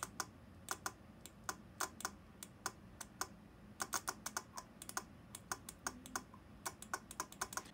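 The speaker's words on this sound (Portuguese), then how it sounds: "eu vou acionar o contato e a gente vai ouvir um clique" An electromechanical relay in a metronome circuit clicks as its coil is energized, producing sharp, distinct snaps repeated in an uneven rhythm at close range over a faint background hiss.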